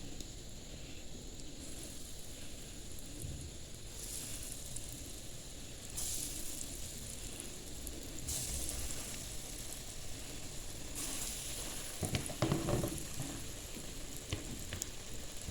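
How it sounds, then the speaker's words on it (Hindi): Chinese kebabs fry in hot oil with a soft, steady bubbling sizzle that swells slightly in a few bursts, heard close but quiet. "चलें जी, ऑयल हो गया गरम। अब इसमें ये डालते हैं अपने कबाब।"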